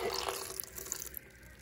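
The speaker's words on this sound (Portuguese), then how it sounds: "Vou colocar aqui também 100 ml de água filtrada." Filtered water poured into soaked oats, a short, faint splashing trickle with small gurgles and drips, close by and quiet.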